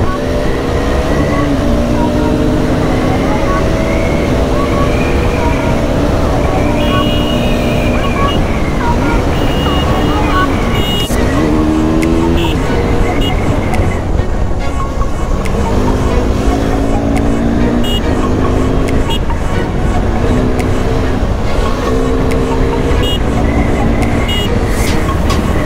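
Modified KTM RC 390 sport motorcycles race on a road, their engines droning loudly and continuously with rising and falling revs and wind rush, close to the rider.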